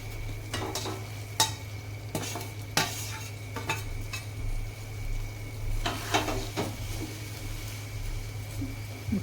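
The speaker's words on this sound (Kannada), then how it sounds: "ಈಗ ಈ ನೀರು ಕುದಿಯುವಾಗ ನಾವು ಹುರಿದಿರ್ತಕ್ಕಂಥ ಈ ಶಾವಿಗೆನೆಲ್ಲ ಇದರಲ್ಲಿ ಸೇರಿಸ್ಕೊಳಮ್ರಿ" A pot of water at a boil takes handfuls of fried vermicelli for a milk-free vermicelli payasa, heard as a steady low hum broken by scattered close clinks and scrapes of a utensil against the pot.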